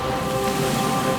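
Steady cartoon rain falls continuously and fairly loud, a dense even patter with no voices over it.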